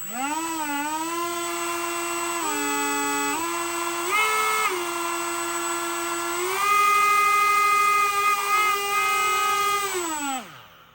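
Electric motor of an RC 787 Dreamliner model plane whining up and down in pitch as the throttle is raised in steps, a steady close tonal buzz that climbs, holds, dips and finally spools down.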